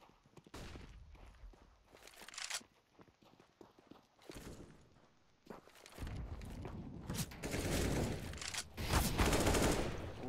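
Pistol fire in a CS:GO match, bursts of sharp gunshots and clattering rattles in quick irregular clusters, fairly faint, with game footsteps mixed in.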